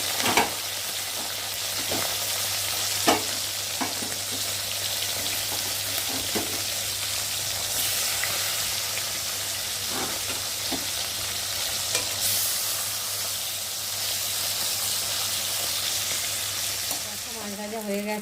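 Fish sizzling steadily in oil in a home kitchen, a continuous moderate crackle with occasional sharper pops and light clinks, and no talking.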